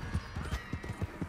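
Hooves of a horse in Red Dead Redemption 2 clip-clop at a brisk, regular pace, close and fairly loud, with each footfall a soft thud in a steady gait.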